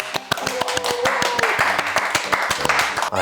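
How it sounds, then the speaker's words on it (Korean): Hands clapping in a steady, fairly quick rhythm during a Korean talk show about cheekbone surgery, with sharp claps close by and a voice talking over them. "박수 치는 게 되게 어색해."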